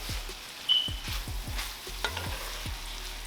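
Cooked brown rice is stirred into a frying pan mixture, with a soft sizzle underneath and a series of close, regular spoon scrapes and knocks against the pan.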